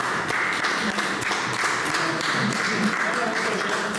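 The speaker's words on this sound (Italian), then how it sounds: "E io farei un applauso." Audience applause at a poetry and song evening in Ossi, Italy, a dense continuous clapping with mixed voices in the room throughout.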